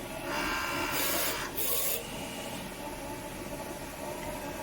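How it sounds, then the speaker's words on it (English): A PET DTF A3 printer with dual Epson F1080/XP600 heads prints a test pattern, giving a steady close mechanical whir with two louder hissing sweeps of the print carriage in the first two seconds, no talk. "then the printer starts to print the bad direction"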